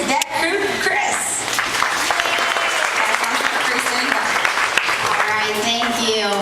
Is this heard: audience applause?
yes